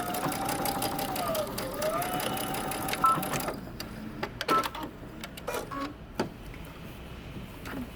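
A sewing machine runs in a steady close whir while back stitching, then stops, leaving scattered light clicks and handling noises.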